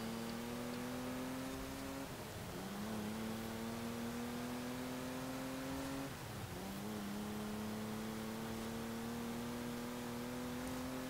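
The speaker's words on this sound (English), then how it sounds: "This car doesn't have the best in terms of gear ratios." A race car engine in Forza Horizon 4 revving up steadily through the gears, with two audible gear shifts. It is a constant, fairly quiet whine that climbs in pitch between shifts.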